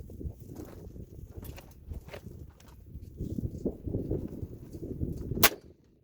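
A single shot from a Glenfield model 30A 30-30 rifle cracks sharply near the end, fired outdoors against a hill, after several seconds of quiet shuffling and handling noises.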